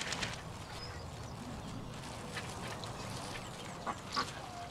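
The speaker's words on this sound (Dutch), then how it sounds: "Er zijn heel veel eenden." Ducks quack in scattered bursts by the water over a steady outdoor background hum, with a couple of louder calls near the end.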